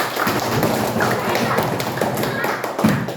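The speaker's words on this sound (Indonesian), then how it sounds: "Oke, kasih aplaus pertamanya" A classroom applauding a group after their presentation, with a dense patter of many hands clapping together, loud and close, while voices talk over it.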